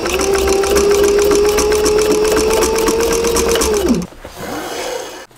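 A flatbed sewing machine runs fast through soft leather for a bag, giving a loud, steady mechanical whir for about four seconds that then winds down and stops.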